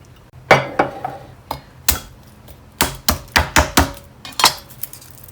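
Knife on a cutting board finely mincing garlic for a salad dressing, giving sharp, irregular chopping taps in short bursts, close and fairly loud, with no talking.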